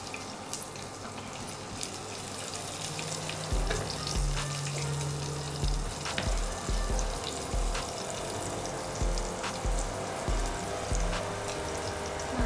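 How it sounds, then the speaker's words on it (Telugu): Cumin seeds and chopped onion frying in hot oil, a dense continuous sizzle with occasional stirring scrapes and light thumps, close and steady with no speech. "ఆయిల్ వేడైన తర్వాత అందులో జీలకర్ర వేయాలి, తర్వాత ఆనియన్స్, ఒక ఉల్లిపాయ తరిగిన ఉల్లిపాయ"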